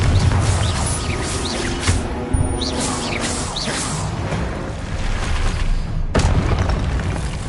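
Confringo fire-spell blasts in Hogwarts Legacy: repeated booming explosions with whooshing bursts and crashing debris during heavy combat, loud and dense, with a sharp new blast near the end.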